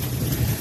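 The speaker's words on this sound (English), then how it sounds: "That lightning and thunder." Thunder during a hail storm in Fort McMurray, a brief low rumbling roll with broad noisy wash on top, steady and moderately loud, no voices.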